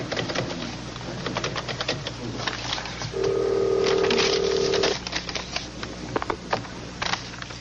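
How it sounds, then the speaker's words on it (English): A telephone number being dialed in a 1980s setting, with clicking key or dial sounds and a sustained tone in the middle, over busy background noise. "Oh, John, I've got to make a phone call."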